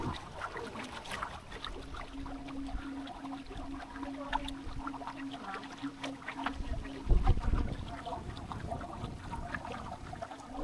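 A solar-powered tour boat comes in to dock on the Canoli canal, a steady low motor hum running for several seconds beneath water wash, then a louder bump and splash near the seventh second as it settles.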